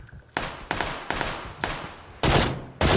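Rapid bursts of gunfire in PUBG on Xbox One crack out in short, sharp volleys, six or so shots evenly spaced, with the last two louder and fuller.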